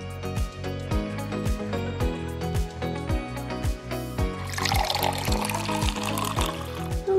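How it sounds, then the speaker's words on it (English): Water is poured into a pot of shredded cabbage and carrot for cooking, in a toy kitchen play setting. The splashing pour swells near the end over a rhythmic musical background. "we're going to add some water"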